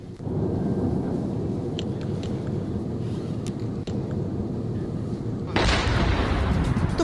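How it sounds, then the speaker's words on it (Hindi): Heavy low booming rumble of artillery explosions in Mariupol, continuous and dense for several seconds, with a sharper loud blast near the end. "जिस तरीके से एक के बाद एक धमाके हो रहे हैं"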